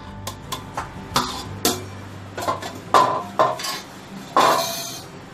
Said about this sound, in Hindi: अब मैं ये खोया खीर में मिला दूंगी।